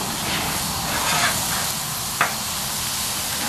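Fish seasoned with cayenne pepper and chili powder sizzles on a Blackstone griddle with a soft, even hiss, broken by a brief scrape of a spatula near the end.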